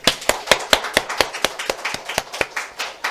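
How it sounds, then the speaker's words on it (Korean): Congregation clapping at a New Year's Eve church service, a fast steady rhythm of about four claps per second, loud and in unison with no talk over it. "박수!"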